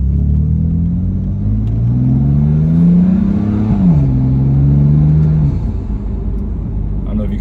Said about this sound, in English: there's a little bit of turbo noise just from that little pull